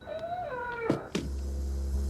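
A cat meows in a film scene, with a rising and falling meow, two sharp thuds or clicks following, and then a steady low rumble to the end.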